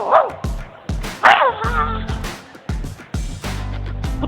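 A voice imitates a dog, giving a string of loud, close barks, yips and whimpering whines in uneven bursts with short gaps between them.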